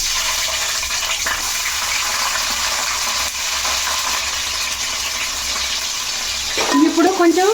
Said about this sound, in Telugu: బ్రౌన్ కలర్ వచ్చేదాకా వేయించుకోవాలి